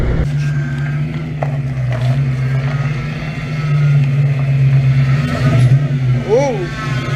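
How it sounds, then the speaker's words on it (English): A Foxbody Mustang running nitrous accelerating hard in third gear with its tires spinning, a loud droning engine roar that swells toward the end, with excited voices talking and shouting over it. "Blowing the tires right off in 3rd gear."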